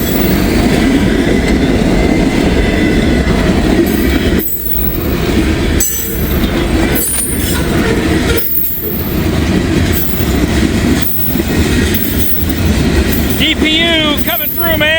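A freight train with a DPU locomotive rolls past close by, a loud continuous rumble of railcars with rhythmic wheel clatter, clinks and a brief wheel squeal near the end.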